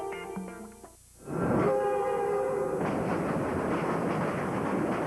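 A Via Rail passenger train sounds its horn in a long, steady chord, then rumbles past loudly with a broad roar and rattling wheels that continue to the end.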